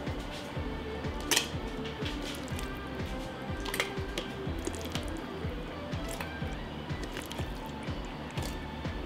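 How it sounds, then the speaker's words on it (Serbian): Cooked vegetable preserves poured into sterilized jars, heard as thick, wet dripping and squishy plops in a fairly steady rhythm, close and moderately quiet. "sada sipamo u sterilisane tegle"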